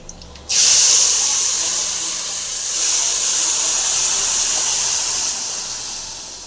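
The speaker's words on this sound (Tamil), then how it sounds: "எண்ணெய் காய்ச்சி கடுகு போட்டுடலாம் இப்போ கடுகு நல்லா பொரிஞ்சிருச்சுங்க இப்போ நம்ம சட்னியில் ஊற்றிடலாம்" Hot oil with popped mustard seeds is poured into thick chutney and bursts into a loud, sustained hissing sizzle that starts abruptly and holds for several seconds, close up with no talk.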